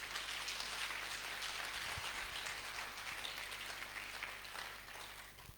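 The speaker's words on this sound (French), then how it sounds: "Est-ce qu'on peut applaudir pour le Seigneur?" A church congregation claps together in sustained applause, a dense, even patter of many hands that holds steady and then slowly thins toward the end, with no talking over it.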